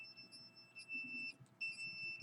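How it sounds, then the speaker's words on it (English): A high electronic alarm beeps in two long sustained tones separated by a short gap, fairly faint, with no talking. "You can hear the alarm going off."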